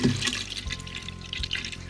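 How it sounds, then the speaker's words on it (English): Water splashing and pouring steadily into a pitcher, a close, continuous liquid rush with small bubbling variations. "pour the water in,"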